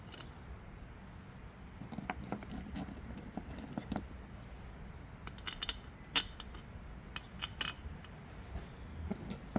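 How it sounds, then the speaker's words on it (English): Metal bolts clink and rattle close by in a hand while a high-capacity differential cover is fitted on an Infiniti G37, with quiet, irregular sharp taps and jingles. "Put the bolts in."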